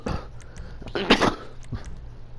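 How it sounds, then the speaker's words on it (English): A single person's sneeze and cough burst out at once, a short raspy throat explosion with a sharp peak after a few smaller coughy huffs, close and alone against low room hum. "that was like a sneeze and a cough at the same time"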